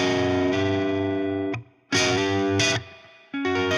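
A funk-style pentatonic lick on a processed electric guitar with distortion and chorus effects: short punchy bursts of notes separated by brief gaps, loud and close with no voice.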